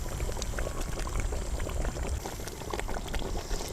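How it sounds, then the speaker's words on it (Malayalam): Fresh cream goes into a pan of simmering Afghani chicken gravy. A soft, continuous bubbling and gentle pouring hiss stays quiet and close, with no voices. "ഫ്രഷ് ക്രീം ഒഴിക്കാം."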